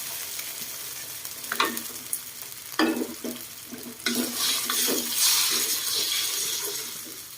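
Kale is stir-fried with canned fish and garlic in a hot pan. A steady sizzle runs throughout, broken by repeated scraping strokes of a spatula, and the frying swells louder in the second half.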